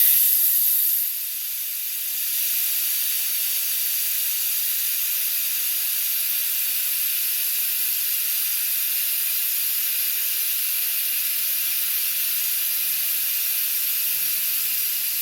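Steady, loud hiss of air escaping from a vacuum brake bleeder while brakes are bled, starting after a brief quieter moment and continuing unbroken to the end, with no talking.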